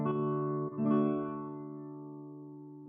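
Guitar chord strummed on four strings only, leaving the top two unplayed; one close, clean strum and a quick second one, both ringing and slowly fading.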